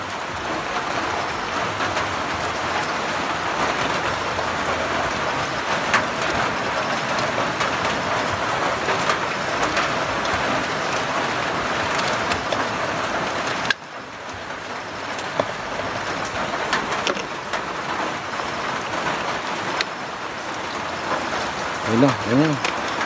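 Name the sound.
heavy rain falling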